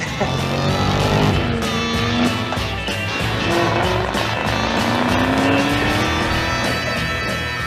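A 2021 Ford Mustang Mach-E roars and revs loudly, with rising whines as it accelerates and a high tire squeal cutting through.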